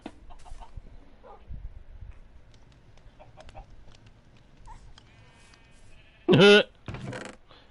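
Chickens in the Minecraft video game cluck in scattered game sounds, with one loud close burst of squawking near the end among quieter ambient noises.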